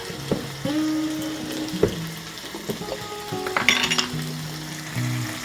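Sauce poured into a hot pan of chicken, garlic, onions and mushrooms, a steady close sizzle and bubbling broken by a few clinks of a utensil against the pan.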